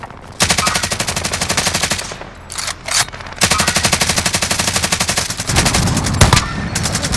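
Rapid automatic gunfire in Call of Duty, loud bursts of fast rattling shots broken by short pauses, with a few single cracks near the end and no voices.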